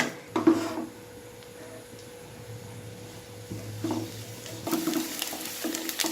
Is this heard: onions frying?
yes